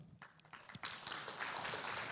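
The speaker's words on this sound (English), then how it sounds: "they're clapping for you" A church congregation applauding, scattered claps building into steady clapping that stays fairly faint and distant.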